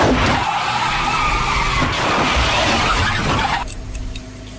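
A car in a Thai mystery film skids and swerves with a loud, sustained tire screech, then crashes into a pole, the noise cutting off abruptly near the end.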